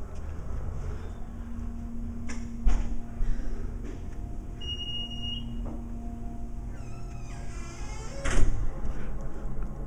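An elevator door squeaking, a thin high-pitched squeal that rises and wavers near the end, over a hum of indoor background noise with a few knocks and clunks.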